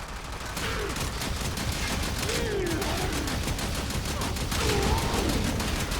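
Rapid, dense bursts of fire from a Kohm shotgun in the video game Warframe, a continuous barrage of loud blasts emptying a whole magazine, with faint game sounds mixed in.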